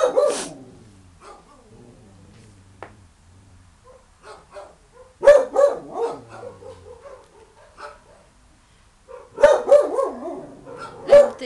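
A dog at a dirty animal shelter pen barks in several short bursts with whimpers and yips between them, close and fairly loud against a quiet background.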